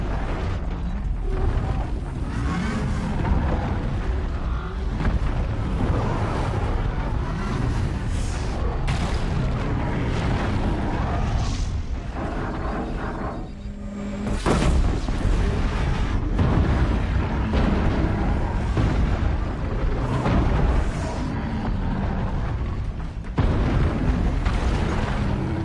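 A dense, continuous barrage of explosions and booms in Horizon Zero Dawn, loud and relentless, with deep rumbling bursts piling on top of each other throughout.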